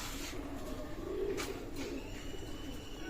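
Teddy pigeons, a fancy pigeon breed offered at a bird sale, cooing steadily and close by in a low, continuous murmur, with no talking over them.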